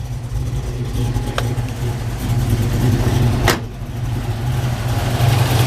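A 1971 Chevrolet Chevelle hardtop idles steadily with a deep, throaty rumble, running loud and close throughout with a couple of brief sharp clicks over the engine note.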